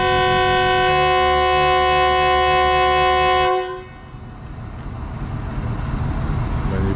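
A long, loud, steady train horn from the Tezgam express blares close by at Rohri Junction, then cuts off abruptly, leaving rumbling engine and track noise.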